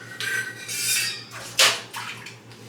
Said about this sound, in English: I'm gonna try to wash the dishes